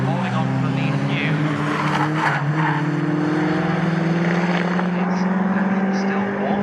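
Caterham Seven 310R race cars in a championship race at Snetterton drone past with a sustained engine note that slowly climbs in pitch, while a commentator talks over the racing.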